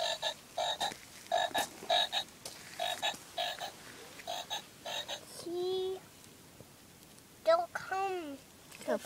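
Frogs croak at a pond where tadpoles swim, giving a run of short, regular pulsed calls followed by a few longer, rising croaks, fairly close against a soft outdoor background, with what may be a voice nearby.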